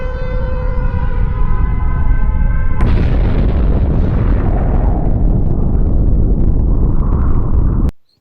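A bomb blast that destroys a city: a rising wail like a siren gives way to a sudden huge explosion, then a long, loud, rolling roar that cuts off abruptly.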